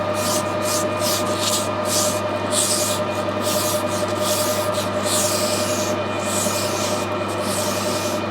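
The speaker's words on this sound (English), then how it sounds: "I just want to polish this up to take some of the surface corrosion off it." Emery tape rubbed back and forth over corroded metal on a steam locomotive, a steady close abrasive scrubbing that continues throughout over a constant low machinery hum, with no talking.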